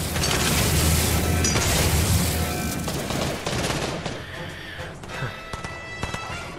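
Gunfire in the video game Fortnite: a dense, loud rattle of shots and clattering effects that fades toward the end, with scattered mechanical sounds.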